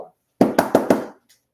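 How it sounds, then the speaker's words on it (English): Four loud, evenly spaced knocks on a door, close and resonant, with a soft murmur just before and after. "he was roused by a large knocking at the door."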